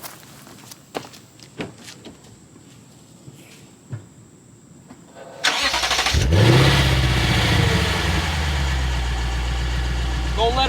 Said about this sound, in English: So let me go ahead and get you a quick cold start.